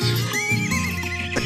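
A horse whinnies in one drawn-out, wavering neigh, close and clear, with light hoof clops beneath it.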